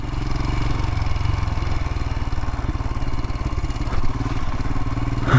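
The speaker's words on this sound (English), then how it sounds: "Wow, I haven't been down this road on the Himalayan in quite some time." A Royal Enfield Himalayan motorcycle is ridden along a road, its single-cylinder engine thumping steadily and loudly throughout, with mechanical clatter and a slight rise in revs near the end, heard close and without speech.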